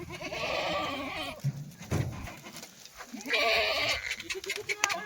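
Kathiawadi goats bleat repeatedly, several animals calling close by in overlapping, wavering cries with short pauses between bursts.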